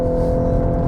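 A 2021 VW Golf R Mk 8 engine holds a loud, steady, humming drone at raised revs under launch control, close and continuous for a brief moment with no talking.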